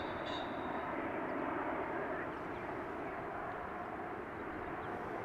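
A Douglas DC-3 Dakota propeller airliner at Amsterdam Schiphol Airport drones with a steady, rumbling piston-engine roar, heard at a distance and holding evenly throughout without speech.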